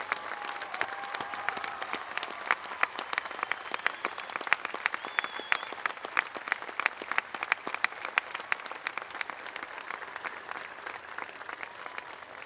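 Sustained applause from the crowd at a high school commencement, honouring graduating seniors who are joining the armed forces, with brisk, crisp clapping filling the hall steadily for over twelve seconds.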